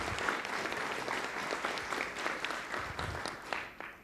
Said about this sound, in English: give these students a round of applause